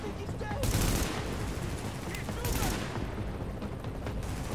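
Bursts of rapid gunfire and explosive blasts from the video game The Division, with grenades being thrown in heavy combat. Loud, dense volleys come in waves, with voices talking faintly underneath.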